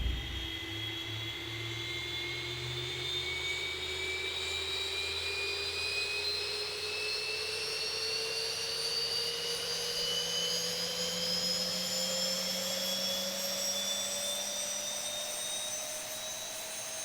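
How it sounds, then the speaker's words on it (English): Jet engine number 2 of an airliner spooling up during startup in the X-Plane 11 flight simulator, with a steady loud whine rising slowly in pitch over a constant rushing drone. "now we're going to start engine number 2"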